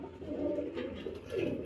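Close-up soft, low cooing from a male pigeon in a loft, two rolling coos in quick succession with faint background rustle.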